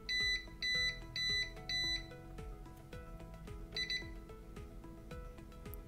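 APC Back-UPS ES M-Series battery backup alarm beeps at close range, with four evenly spaced loud beeps, a quieter pair of short beeps, and ticking tones underneath.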